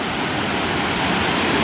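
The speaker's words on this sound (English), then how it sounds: "It's a nice waterfall." Mae Rim waterfall in Chiang Mai, Thailand, pours in a steady, loud, broadband roar of rushing water, close and continuous with no other sounds over it.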